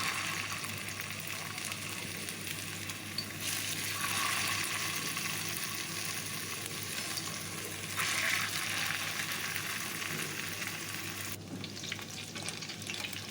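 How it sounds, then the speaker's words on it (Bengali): Chicken kebabs sizzle steadily on a hot tawa, a continuous close frying hiss that swells and eases over several seconds, with no talking. "ঠিক একইভাবে আমি অন্য কাবাবগুলোও ফ্রাই করে নেব।"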